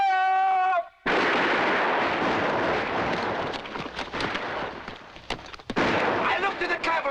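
A heavy volley of musket gunfire in a battle scene, erupting into a sustained loud roar with sharp cracks breaking through, preceded by a shouted command.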